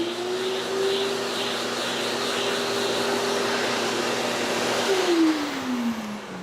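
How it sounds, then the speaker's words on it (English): A dust extractor vacuum draws sanding dust off a wooden piece, giving a steady, fairly loud whine and rush that holds throughout and drops in pitch near the end as it winds down or shifts load. "The other option is to use something like the dust extractor to make sure that you get all of that material off the"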